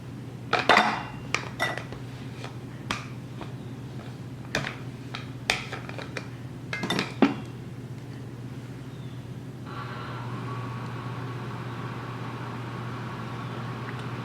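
A metal cookie sheet is handled while croissants are placed on it: a series of light clinks and metallic taps spread over the first half, then a steady low hum takes over.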